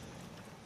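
Horse hooves clopping in the video game Red Dead Online, a brief, quiet burst of steady footfalls lasting under a second with no talk.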